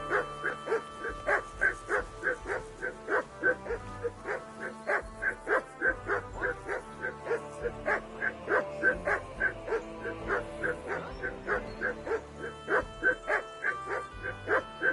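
Dog barking in the video game Kingdom Come: Deliverance II, a steady run of rhythmic, evenly spaced barks, loud and close, continuing without a break and with no talking over it.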